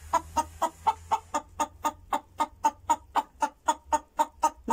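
A chicken clucks in a steady, evenly spaced series of about twenty sharp calls, close and fairly quiet, with a faint low rumble underneath at the start and no talking.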